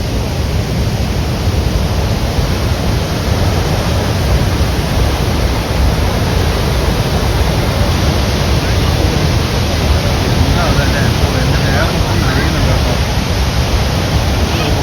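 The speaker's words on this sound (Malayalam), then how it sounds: "മനോഹരമായ ഒരു വെള്ളച്ചാട്ടം." Athirappilly waterfall in the rainy season roars as a loud, unbroken broadband rush. A voice speaks briefly under the steady thunder of falling water.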